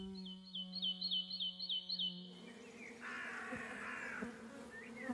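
Wild bees in a forest, a steady insect buzz beginning faint with a high repeated bird chirping above it, then a softer rustling hum, all quiet and distant.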